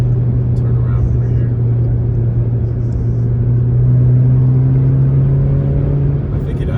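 An Alfa Romeo Giulia fitted with an upgraded Monza exhaust drives along, its engine holding a steady, loud, deep exhaust drone close by that swells slightly midway.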